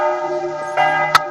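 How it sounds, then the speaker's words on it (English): A church bell with a Big Ben-like chime rings out with a sustained, ringing tone, followed by a sharper second strike near the end, close and fairly loud with no talking. "It sounds like Big Ben."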